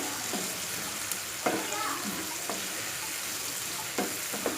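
Tamarind water hissing and sizzling as it is added to a hot pan cooking gooseberries, a steady frying crackle with a few sharper splashes and pops, fairly quiet and close.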